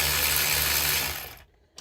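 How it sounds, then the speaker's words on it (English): Ratchet wrench turning wheel bearing bolts on a Pontiac G6, a brief close burst of clicking mechanical whir that cuts off abruptly. "you can use a ratchet"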